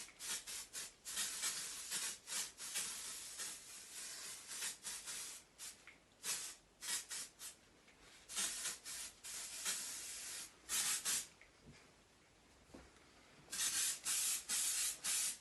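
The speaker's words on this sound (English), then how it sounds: "It's just like a spray that just really texturizes the curl but doesn't make it feel too like dirty." Sam McKnight Cool Girl texturizing spray misted onto curled hair in repeated short and longer bursts of hiss, close and clear, with pauses between sprays and no talking.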